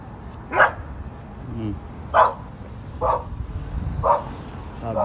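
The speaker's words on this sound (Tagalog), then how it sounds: "si Blue kumakahol na naman" Dog barking in four short, sharp bursts spaced about a second apart, moderately close, with talk and background noise running underneath.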